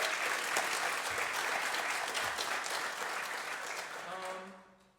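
An audience at a senior trombone recital breaks into steady, full applause that holds evenly for several seconds before tapering off at the end.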